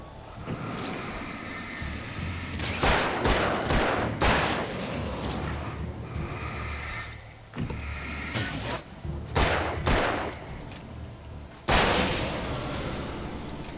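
Gunfire in the video game Alan Wake, where shotguns and rifles are among the weapons. Heavy booming shots come in irregular clusters over a low rumbling ambient bed, with no talk.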